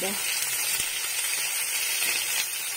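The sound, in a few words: grated garlic and ginger frying in a pan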